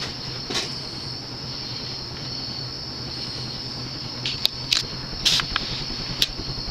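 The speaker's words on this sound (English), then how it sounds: "The motor is slower in reverse." Evergo Banana Fan 52-inch ceiling fan running in reverse at slow speed: a steady motor hum with a thin high whine, then a few short squeaks and clicks toward the end, and no voices.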